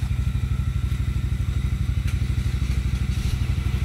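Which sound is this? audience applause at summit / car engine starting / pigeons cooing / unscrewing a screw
car engine starting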